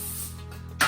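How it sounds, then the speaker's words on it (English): Cooking spray hisses in one short, loud burst onto an aluminum foil-lined baking pan, near and alone at the very end. "I'm just going to spray it down"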